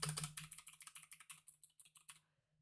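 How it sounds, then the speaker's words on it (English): Fast typing on a HyperX FPS Pro keyboard with clicky Cherry MX Blue switches: a quick, steady run of sharp clicks close up, fading out after about two seconds. "Oh, I love the sound on my keyboard."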